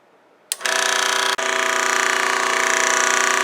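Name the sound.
scroll saw running, blade moving rapidly up and down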